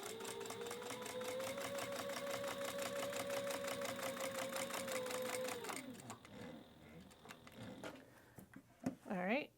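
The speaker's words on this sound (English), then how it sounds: "And we're top stitching now across this edge." A sewing machine whirs in a steady, rapid stitching run as it top stitches across the edge of a tea towel topper. It stops after about six seconds, then someone speaks.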